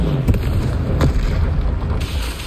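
In the video game Hogwarts Legacy, the Confringo spell sets off a loud booming explosion amid dense game noise, with a few sharp bursts close up over a continuous rumbling background.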